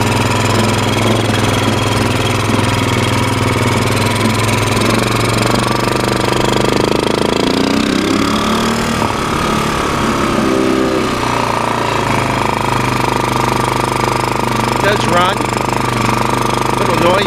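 A 2000 Polaris Lakota ATV engine idles after a cold start, a loud, steady, rough rumble close by with some rattling, and voices talk faintly beneath it.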